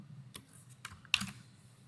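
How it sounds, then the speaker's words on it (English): Sparse typing on a computer keyboard in a database lab setting: a handful of quiet, irregular key clicks, soft and close, with no talking. "I would just keep making sure that I'm typing it exactly"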